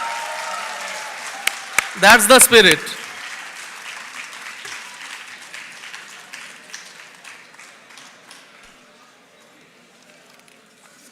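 An audience applauds a woman honored on stage at an International Women's Day event at IIT Kharagpur. A sharp, loud burst gives way to scattered clapping that thins and fades over several seconds, with a voice speaking over it.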